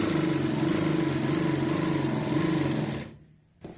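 Sewing machine stitching a salwar, a steady close motor whir with a fast even rhythm that runs for about three seconds, stops abruptly, then gives one short restart.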